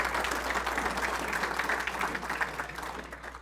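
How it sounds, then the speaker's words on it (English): Guests at an awards dinner give a warm, steady round of applause that fills the hall, with a low hum beneath it, before it tapers off near the end. "please give him a round of applause for that wonderful honor"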